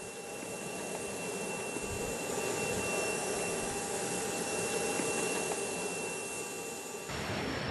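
Steady, loud broadband roar of a private jet's engines in the cabin, a continuous whine-laden rumble with no speech, shifting slightly near the end.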